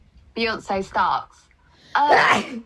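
A drunk person lets out one loud, abrupt sneeze at close range, right after a few quick spoken words.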